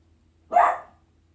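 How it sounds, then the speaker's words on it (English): A single short bark from a pet dog, heard from a little distance, in an otherwise quiet room. "If you hear that noise, it's my dog."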